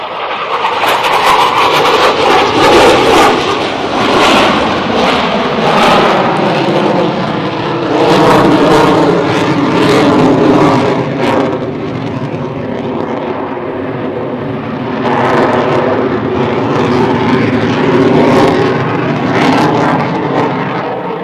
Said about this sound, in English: The demonstration will highlight the exceptional slow speed capabilities of the F-18.